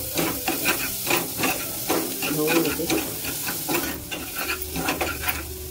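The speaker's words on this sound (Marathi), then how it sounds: "आणि त्याच्यामध्ये कोथिंबीर पण टाकून घेते, ढवळून घेते" Broccoli sabzi with chopped coriander being stirred in a hot pan, a steady sizzle with repeated scraping strokes of the spoon throughout, close and clear with no talking.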